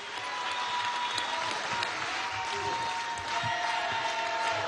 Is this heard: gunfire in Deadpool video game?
no